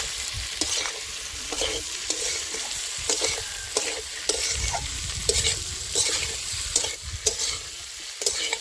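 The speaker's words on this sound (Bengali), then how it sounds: "তো এবার আমি আলু ভাজা ভেন্ডি ভাজা কিন্তু দিয়ে দিলাম।" Fried potatoes and okra are tossed into hot oil with cooked-down spices and stirred in a wok, giving a steady close sizzle broken by repeated scraping and clinking of the spatula.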